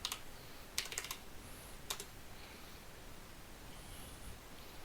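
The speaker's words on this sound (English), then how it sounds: "So we're going to type in reboot." Faint keystrokes on a computer keyboard typing a reboot command into a Linux server terminal, a few quick clusters of clicks then quiet room hiss.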